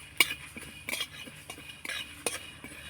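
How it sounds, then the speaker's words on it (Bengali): Spices being dry-roasted in a pan for a spicy raw mango laddu, heard as close, scattered clinks and scrapes of a stirring utensil against the pan, with a faint sizzle and no voice. "শুকনো খোলায় একটু মশলাটা নাড়াচাড়া করে ভেজে নেব"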